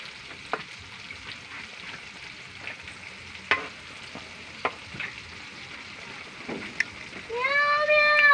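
Food frying in a pan at a farmhouse, a faint crackling sizzle under scattered clinks and light voices, swelling into a louder, steady sizzle near the end.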